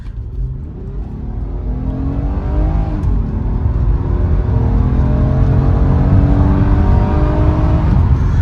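A 2007 Honda Accord EX-L V6 engine revving hard as VTEC engages, its loud rising drone climbing steadily in pitch over several seconds with no speech.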